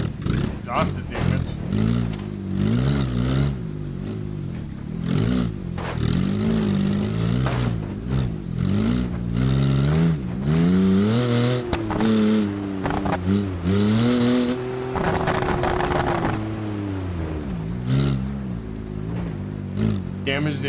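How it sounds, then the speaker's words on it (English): Car with a damaged exhaust in BeamNG.drive revving repeatedly, its rising and falling engine tone roaring loudly in a series of throttle blips and sustained pulls, alone without talk. "Damage the exhaust and it somehow sounds cooler now."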